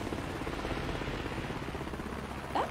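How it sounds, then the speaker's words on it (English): Helicopter arriving in a scene from the film The Dark Knight, a steady low rotor drone at moderate distance that holds evenly throughout with no speech. "he's showing up with his helicopter with women"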